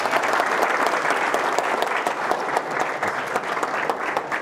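A conference audience at a data science speaker series applauds, a dense, steady clapping that holds evenly for several seconds with no voices over it.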